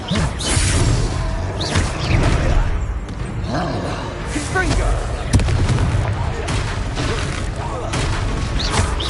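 Booming spell blasts and whooshes ring out during a spell duel in Hogwarts Legacy, the explosions loud and repeated amid combat noise and shouted voices.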